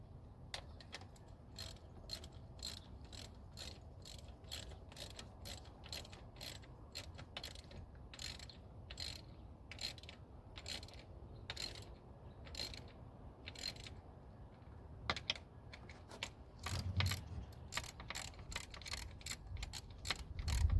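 Ratchet clicking in steady, rapid bursts as bolts are cranked down on the runner intake control valve of a Mazdaspeed 6, close and loud with brief pauses between strokes and no talking.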